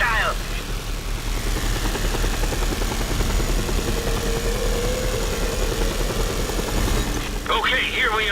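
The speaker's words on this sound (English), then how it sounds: "We have an incoming unknown aircraft" An approaching hostile aircraft in Just Cause 2, a steady droning rotor-like engine hum that holds throughout, with voices talking briefly at the start and end.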